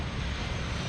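An F/A-18C Hornet jet touching down on a runway during an airshow demonstration gives a brief, loud, steady broadband roar with no pauses.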